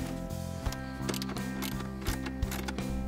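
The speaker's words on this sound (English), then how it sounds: "Using your 8mm socket, undo the first screw holding the cover in place" A hand ratchet fitted with an 8mm socket clicks in quick, regular bursts while undoing the screws of a dashboard vent cover on an Audi B6 A4 1.8T, close and clear with no talk.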